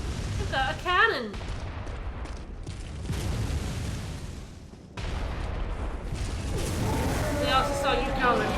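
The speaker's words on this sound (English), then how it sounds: "You've got a cannon!" Gunfire and cannon blasts in the video game Bloodborne, Upper Cathedral Ward: repeated heavy booming shots and explosive bursts, loud and close, with a short gap of near silence before another barrage and rattling debris.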